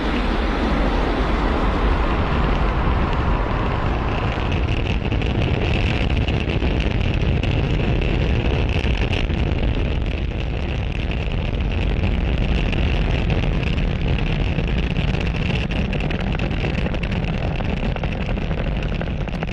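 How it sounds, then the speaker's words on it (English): SpaceX Falcon 9 rocket lifting off from Pad 40 at Cape Canaveral, a loud continuous roar with heavy wind-buffeted rumble that holds steady and broad for the whole stretch, with no talk. "Falcon 9 has successfully lifted off from Pad 40"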